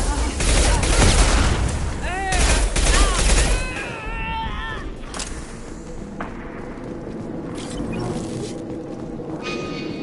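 Gunfire in Mass Effect 2, heavy rapid bursts of shots up close for the first few seconds, with whooshing and ringing effects, then quieter scattered impacts and background noise.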